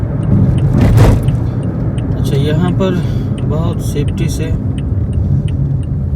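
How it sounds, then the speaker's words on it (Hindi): A car making a U-turn on a Saudi road behind a passing truck, its low engine rumble and road noise running steadily beneath a man's close, continuous talking. "ये ट्रक वाला जा रहा है, इसी के पीछे यूटर्न करते हैं हम"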